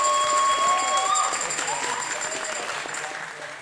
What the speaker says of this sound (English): Let's have another round of applause for the Imagine High student.